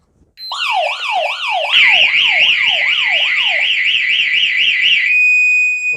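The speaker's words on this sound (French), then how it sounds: "la sirène n'est pas autoprotégée" A Staniot LoRa alarm siren wails loudly and close, a rapid warbling tone sweeping up and down in repeated cycles, layered with a second pitched warble, then settling into a steady high tone before cutting off.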